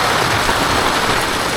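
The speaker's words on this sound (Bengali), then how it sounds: "সাংঘাতিক লেভেলে বৃষ্টি আজকে" Heavy rain pours onto a street near a railway station, a loud, dense and unbroken roar with no voices over it.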